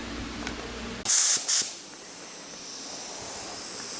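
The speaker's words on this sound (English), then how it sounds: "getting ready to make a shitload of that color and spray the shit" A spray gun hisses in two loud short bursts, then a quieter continuous hiss, while paint goes onto a Nissan S13 drift car with a 1JZ engine.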